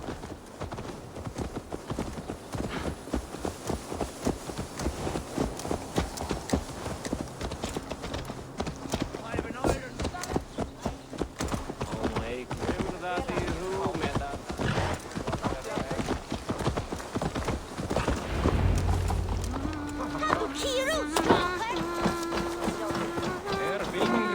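Horse hooves clip-clop at a steady walking rhythm in Assassin's Creed Valhalla, with voices talking over them and a low ambient bed throughout.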